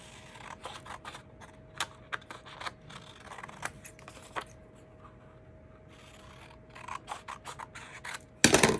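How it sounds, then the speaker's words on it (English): Scissors snip through creased printable paper for a Valentine's Day tiered tray craft, giving a run of short crisp cuts close up that pause midway, then resume, ending in a louder rustle. "I'm just gonna cut right on the outside of that crease"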